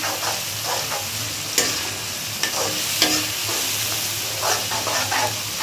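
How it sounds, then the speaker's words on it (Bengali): Spice paste with cumin powder and salt frying in a pan: a dense, continuous sizzle with a few sharp spatula taps and scrapes now and then, close and steady. "পরিমাণ মতো লবণ দিয়ে এবার আমি মশলাটা কষিয়ে নিই।"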